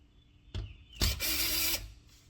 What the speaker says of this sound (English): I'm going to use the drill, put it back on number 2, very light, just to cinch it down a little bit